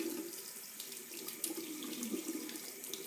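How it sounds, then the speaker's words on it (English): Warm water runs steadily from a tap into a sink, a continuous close hissing splash that stays fairly even throughout with slight fluctuations. "So I just start out by getting warm water going."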